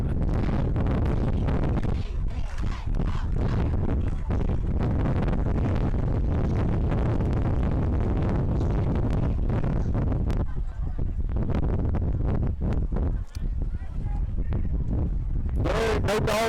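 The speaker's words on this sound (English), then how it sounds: "There's another gust." Strong gusts of roughly 30 mph buffet the microphone at a Friday night high school football game, Abbeville vs Kaplan, with a constant rough, blustery roar and sharper bursts near the end, while a voice talks over it.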